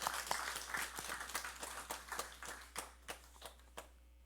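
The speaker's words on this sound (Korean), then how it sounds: "박수로 하나님께 다시 한번 영광 돌리겠습니다." A church congregation claps during a Sunday worship service, a fairly sparse, quiet round of individual claps with distinct hand strikes that thin out toward the end.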